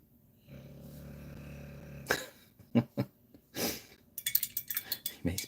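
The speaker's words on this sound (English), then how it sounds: "He makes me laugh with that snore." He lets out a low, buzzing snore that drones steadily for about two seconds. Sharp sniffs, breaths and snuffling noises follow close by.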